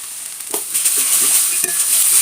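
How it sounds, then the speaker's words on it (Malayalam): Grated coconut and turmeric are sautéed in a pan for raw mango rice, with quick scraping stirs over a steady, close sizzle. "ഇനി അത് നല്ലോണം നമുക്കൊന്ന് വഴറ്റിയെടുക്കാം."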